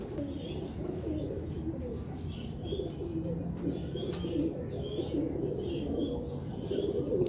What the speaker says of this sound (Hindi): ये डबल बॉडी के कबूतर हैं